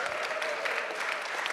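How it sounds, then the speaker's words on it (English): Brief burst of audience applause in a conference room for a birthday, dense steady clapping from many people at a moderate level. "He deserves an applause."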